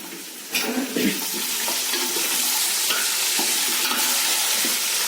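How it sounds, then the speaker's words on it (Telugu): Amla gooseberry pieces cook in hot oil for a pickle, crackling and bubbling loudly up close while a spoon stirs and scrapes the pan early on, the sizzle then settling into a dense, even hiss. "కాయ ఉడుకుతుంది కదా వేడి వేడి నూనెలో ఇవి ఉడుకుతుంది"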